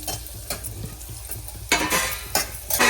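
Roasted shevla, a Marathi vegetable, frying in a pan with stirring and sizzling, the scrape and crackle rising sharply in bursts during the second half.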